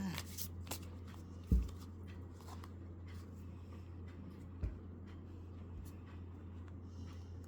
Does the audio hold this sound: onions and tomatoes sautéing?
no